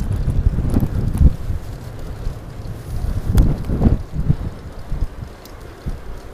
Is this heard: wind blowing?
yes